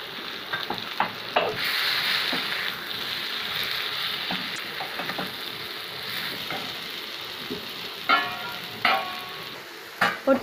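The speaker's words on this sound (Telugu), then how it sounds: "ఒక 2 మినిట్స్ వేయించుకున్నామండి పౌడర్స్ అన్నీ పెట్టి." Spice powders, salt, coriander powder and sesame powder being fried and stirred in a pan for bitter gourd tamarind curry, with a continuous close sizzle and scattered scraping strokes, sharper clatters near the end.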